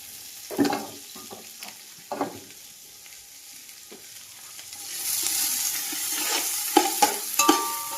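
Onions frying in hot oil in a pan, with a soft sizzle broken by several sharp stirring scrapes, getting louder and denser toward the end; no talking.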